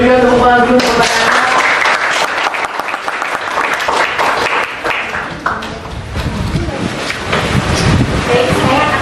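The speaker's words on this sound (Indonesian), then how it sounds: "Jadi kita berikan tepuk tangan dulu pertanyaannya." Applause from a school classroom audience during an Indonesian-language student debate, a dense, steady clatter of many hands that fills the whole stretch at close range, with voices faintly mixed in.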